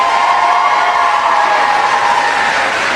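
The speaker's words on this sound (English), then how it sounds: "let's give another round of applause for our top 5." Audience applause and cheering for the top five contestants at a county youth fair pageant form a dense, continuous wash of crowd noise, steady and fairly loud throughout.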